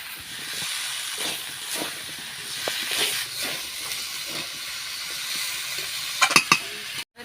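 Cut potatoes and boiled green jackfruit sizzle in a hot pan, a steady frying hiss running throughout with a few brief scraping stirs and small crackles near the end.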